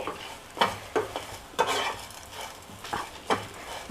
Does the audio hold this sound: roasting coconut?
yes